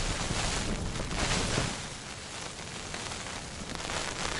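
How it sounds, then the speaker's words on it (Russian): Rain beating on a tent during a night winter fishing trip, a dense steady patter and hiss heard from inside, close and continuous with no voices. "дождь лупасит по палатке"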